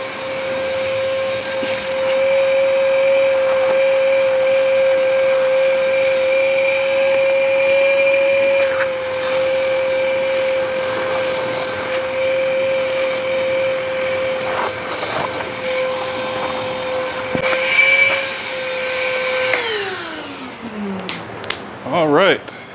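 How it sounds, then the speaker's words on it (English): A homemade dust extractor roars steadily close by as it vacuums up a big pile of sawdust, with a sustained whine and rushing airflow for about twenty seconds before it spins down with a falling pitch and some clattering. "So let's suck it up and see how much of it actually goes into the dust extractor."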